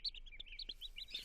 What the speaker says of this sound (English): baby bird.